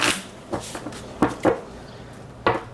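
A deck of tarot cards is shuffled by hand in several quick riffling bursts, close and fairly quiet, with short pauses between.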